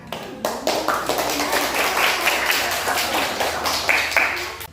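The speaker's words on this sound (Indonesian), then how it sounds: "Sekarang Ibu kasih tepuk tangan dulu ya." Students in a classroom clap their hands, a lively burst of many claps starting after a brief pause and continuing unevenly at close range, with occasional voices mixed in.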